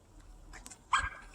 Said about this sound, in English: I cannot escape this dog.